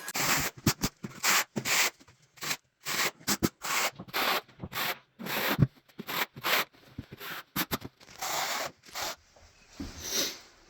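Trowel spreading thinset mud over Kerdi waterproofing membrane on a shower wall, a close series of short, rhythmic scraping strokes separated by brief pauses.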